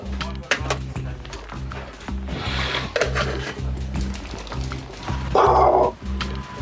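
A Springer Spaniel police sniffer dog barks in bursts over a steady low rumble and shuffling activity, with one louder, harsher bark close by near the end.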